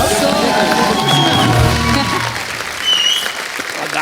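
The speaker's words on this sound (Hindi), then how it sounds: "जोरदार तालियां हमारे सारे कलाकारों के लिए" A studio audience on a comedy show applauds the singers with loud, continuous clapping, along with crowd voices and a few cheers.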